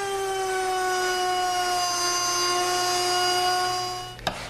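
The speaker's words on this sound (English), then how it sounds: "With the fence in the same position as for the waste cuts, I can route the through cut." A handheld wood router makes a dovetail through cut in a board, a loud, steady high-pitched whine that holds for several seconds, then spins down with a brief knock at the end.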